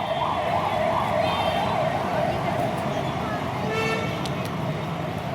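A 108 ambulance siren wailing through jammed traffic, its rising and falling tone clear over steady road noise and scattered horn toots, moderately near and sounding for most of the stretch.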